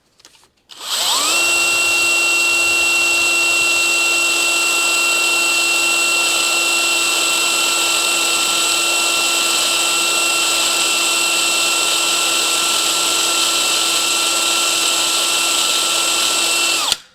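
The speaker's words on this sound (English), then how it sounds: "Okay, they actually do make a spot weld cutter." A spot weld cutter bores into the battery box of a Kawasaki F7 Bushwacker, giving a loud, steady high-pitched drilling whine that holds for about sixteen seconds after a brief start, with no talking.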